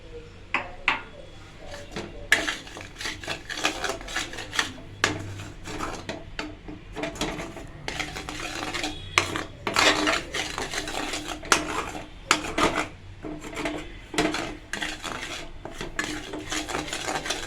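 A spoon scrapes and clatters against a pan while Mysore pak mixture is stirred, giving busy, irregular metallic strokes and knocks that continue close and fairly loud without speech.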